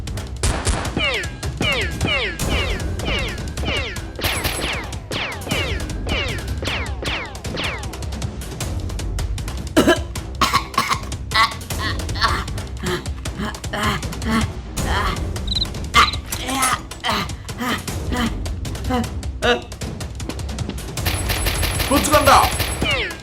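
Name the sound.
Nerf gun battle shooting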